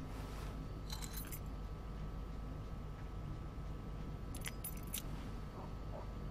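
Keys jangling in a video game, several brief metallic rattles spread across a steady background hum, with no talking.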